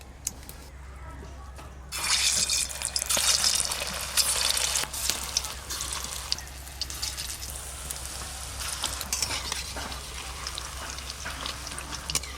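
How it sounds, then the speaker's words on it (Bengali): Sweet naru balls fry on low heat in a pan, giving a steady crackling sizzle that starts abruptly and carries on with small pops and spatters. "এইগুলো একদম কম আঁচে ভাজতে হবে। এই দেখুন, কম আঁচে ভাজা হচ্ছে।"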